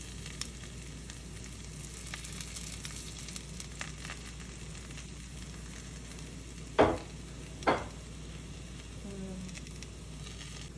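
A tortilla fries in oil in a pan for taco shells, giving a steady soft sizzle throughout, broken by two sharp crackling pops partway through.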